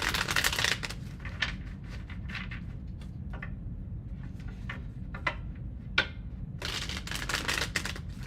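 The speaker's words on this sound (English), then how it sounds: "Last shuffle for my Libras" Tarot cards are shuffled close by in quick riffling bursts, crisp rapid flutters with brief gaps, loudest at the start and end over a low steady background hum.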